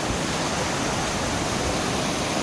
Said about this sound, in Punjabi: ਆਪਾਂ ਝਰਨੇ ਕੋਲ ਪਹੁੰਚ ਗਏ ਆ